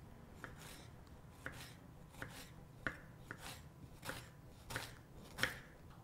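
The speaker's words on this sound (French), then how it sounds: "puis j'émince" A knife slices a peeled vegetable on a board with about eight soft, evenly spaced cuts, close but quiet, over a faint room hiss and with no talking.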